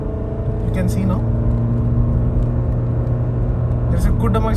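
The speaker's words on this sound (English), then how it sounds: "there's a good amount of noise coming in inside the cabin." A fifth-generation Honda City accelerates past 2000 RPM, filling the cabin with a steady low engine drone and road rumble while someone talks over it.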